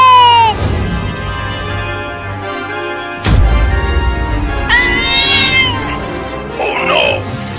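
A cartoon cat meows several times in short, wavering cries, loud and close, with a sudden crash-like thump near the middle and scattered voices around it.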